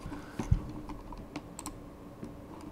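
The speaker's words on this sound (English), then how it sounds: "Perhaps I have to type in training" Light keystrokes on a computer keyboard come as a few scattered, faint clicks in a quiet room, with one slightly sharper tap near the start.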